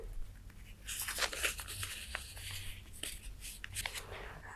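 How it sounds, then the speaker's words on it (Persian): A piece of filter paper torn away by hand, heard as a quiet, close crinkle and a soft rip stretched over a few seconds, with no talking. "یک بخشی از کاغذ فیلتر را جدا می کنیم"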